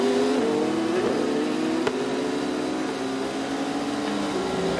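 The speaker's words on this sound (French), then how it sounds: "Kazuki Nakajima, la Toyota numéro 8 est donc reparti." The Toyota number 8 race car pulls away at the 24 Hours of Le Mans, a loud, close engine tone climbing steadily in pitch as it accelerates, with a sharp click partway through.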